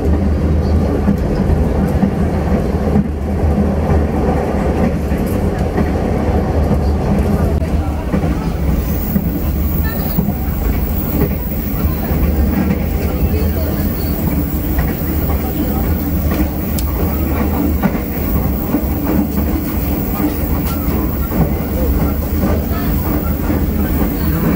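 Continuous rumble and rattle of the Kamandaka passenger train from Semarang to Purwokerto rolling along rails beside the coast, heard from inside, with voices talking over the steady noise.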